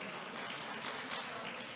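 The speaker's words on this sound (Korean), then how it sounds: "우리 박간서 사무총장님께 큰 박수 한번 좀 부탁드릴게요" A Korean writers' conference audience applauds with steady, even clapping that fills the whole short stretch at a moderate, slightly distant level.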